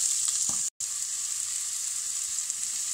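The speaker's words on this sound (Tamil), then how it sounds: "இது கொஞ்சம் நல்லா வதக்கிக்கலாம்." Steady, loud sizzling of garlic and ginger frying in a hot pan, with a brief scrape of stirring and a momentary drop-out near the start.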